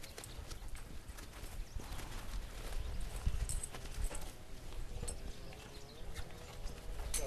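Horse hooves clip-clopping in slow, uneven steps on the ground during a horse's first haltering, faint and somewhat distant with low rumbling handling noise.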